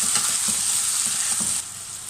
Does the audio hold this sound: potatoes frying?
yes